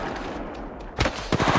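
Rapid gunfire from the mobile video game Apex Legends Mobile, dense bursts of automatic shots over continuous game noise, loud and close.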